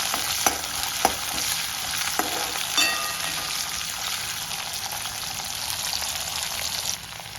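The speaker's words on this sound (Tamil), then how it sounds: "இப்போ எடுத்து வச்சிருக்க வெங்காயம், பூண்டு, கருவேப்பிலை இதை வந்து வதக்கிக்குவோம்" Onion, garlic and curry leaves sauté in sesame oil for vathal kuzhambu, a dense, steady close sizzle with a few sharp clicks of stirring near the start.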